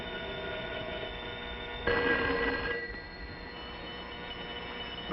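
A telephone rings in an old radio drama as a thin, band-limited burst of ringing, with a muffled, steady background before and after.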